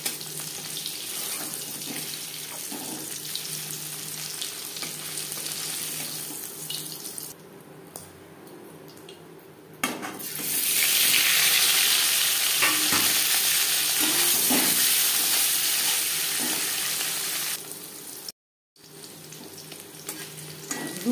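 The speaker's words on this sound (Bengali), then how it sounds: "দুবারে আমি পনির ভেজে নিলাম।" Paneer frying in oil in a wok for a vegetarian potato and paneer curry, a steady bright sizzle that swells loud midway and runs continuously with brief stirring scrapes, close and without talk.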